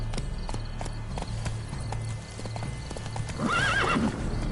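A horse canters in The Witcher 3 with rapid, close clip-clop hoofbeats, then near the end breaks into a loud rising and falling whinny.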